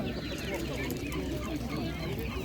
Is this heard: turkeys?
yes